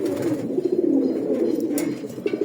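Caged pigeons coo close by in soft, repeated throaty rolls that run continuously for a couple of seconds, with faint scuffs in the background.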